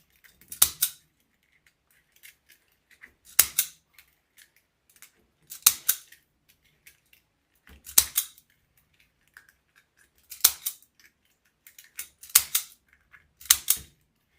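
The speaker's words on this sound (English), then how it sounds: "It tightens and cuts your zip tie tails at the same time." A zip tie gun tightens and snips zip tie tails on a patriotic eagle wreath: sharp, close double snaps repeat about every two seconds with quiet gaps between and no talking.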